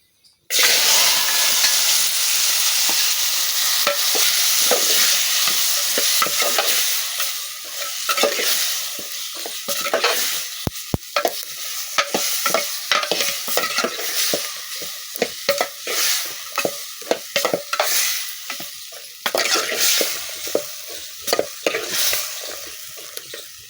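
Potatoes and peas fry in hot oil while being stirred, a loud steady sizzle and hiss close up, broken by repeated scraping and clinking stir strokes throughout.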